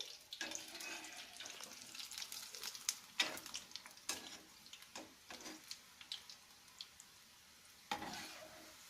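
Moong dal mangode fry quietly in hot oil while being turned over. A faint sizzle runs underneath scattered light scrapes and taps from the flipping, and nobody speaks.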